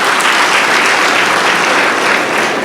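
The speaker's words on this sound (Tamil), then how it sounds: "இது உண்மையா இருந்தா கைத்தட்டுங்க" Loud, dense applause from an audience at a Tamil comedy and motivational speech, a thick continuous roar of clapping held at full strength throughout.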